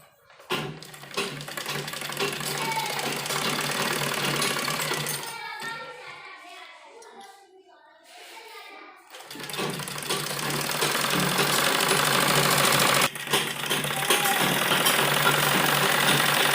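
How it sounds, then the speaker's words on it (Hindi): A sewing machine stitching a baby frock for a child of five to six runs in fast, steady rattling bursts, near and loud. The whirring drops away in the middle, then starts again. "इस तरीके से रख के इधर हम इसमें सिलाई लगाएंगे।"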